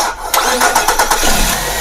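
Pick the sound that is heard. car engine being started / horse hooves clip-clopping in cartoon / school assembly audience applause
car engine being started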